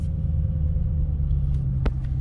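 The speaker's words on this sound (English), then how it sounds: "So, yeah, it's a big line of cars behind me." A long line of cars idling at a large car show, a low steady engine rumble with a faint hum, and a couple of brief higher clicks or knocks near the end. No one speaks.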